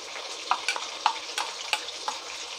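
Ginger garlic paste fries in a pan under a constant sizzle, with a spoon scraping and stirring in regular sharp strokes about every half second, close and fairly loud.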